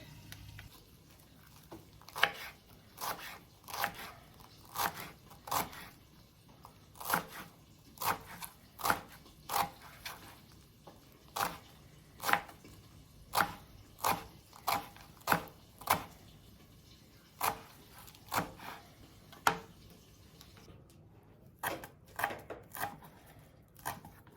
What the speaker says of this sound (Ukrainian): А тим часом у мене такий жмит петрушки, і треба її покришити.